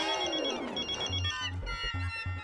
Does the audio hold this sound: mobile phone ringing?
yes